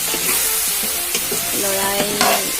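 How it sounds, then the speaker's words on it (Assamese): Duck curry sizzles in a hot pan while a spoon stirs it, scraping and knocking against the metal in uneven strokes over constant loud frying. "আকৌ মিক্স কৰি লৰাই দিব অলপ টাইমৰ কাৰণে, লৰাই থাকিবই লাগে একচুৱেলি।"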